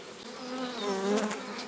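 Bees buzz in an opened beehive, a close, steady droning hum that swells slightly in the middle, with no voices.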